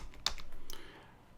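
Quick keystrokes on a computer keyboard while entering a WSL command in a Linux terminal, a sharp loud click followed by a few softer taps, close by and with no talking.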